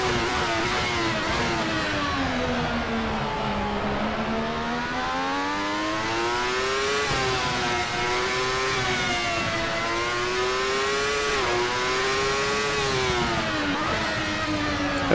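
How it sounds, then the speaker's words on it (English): A 1995 Ferrari 412 T2 Formula One car in Assetto Corsa, in sixth gear down the front straight, its high-pitched engine screaming steadily with slow pitch dips and rises, loud and close throughout. "Already up into 6th gear here, blasting down the front straight."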